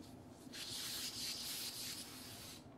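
Spray paint hissing from a can onto sock blanks in bursts of steady spraying, close and fairly quiet, alone with no talk.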